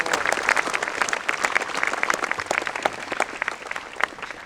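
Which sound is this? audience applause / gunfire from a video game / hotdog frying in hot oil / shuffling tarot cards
audience applause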